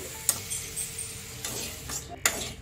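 Okra (ladies finger) frying in a pan, with a faint sizzle and a few sharp spoon-against-pan clicks as it is stirred, close by and without talk.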